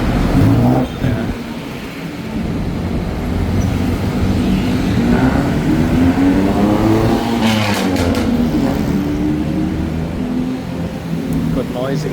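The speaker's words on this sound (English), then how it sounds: "Good noisy muffler on his tuk-tuk." A tuk-tuk with a noisy muffler revs on busy Phaya Thai Road in Bangkok, its engine rising and falling in pitch amid steady traffic noise, with people talking nearby throughout.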